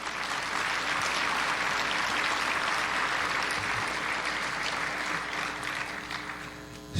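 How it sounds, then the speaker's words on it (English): Applause rises from the audience at the Order of Ottawa ceremony, a sustained, even roll of many hands clapping that eases slightly near the end. "And I think they deserve a big round of applause."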